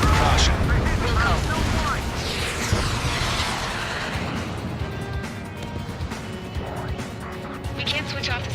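Explosion in the combat flight game Ace Combat 7, a loud, broad blast that rolls and decays over several seconds beneath roaring jet engine noise, with radio voices talking over it.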